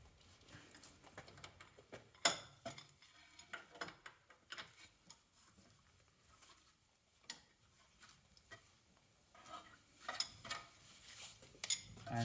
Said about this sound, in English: So I'll start by undoing these two bolts here.